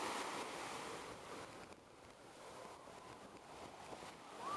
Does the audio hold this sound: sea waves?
yes